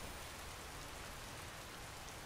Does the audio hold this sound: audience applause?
no